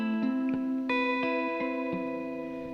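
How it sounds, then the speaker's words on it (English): Guitar notes ring through a Room reverb pedal with light modulation on its heavy setting, several plucked notes blooming into a long shimmering wash that sustains and overlaps, moderately loud and alone. "Such a beautiful reverb."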